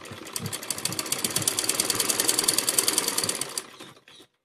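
A sewing machine stitches a frilled baby top, the rapid needle ticking building in speed over a few seconds, then slowing and stopping near the end.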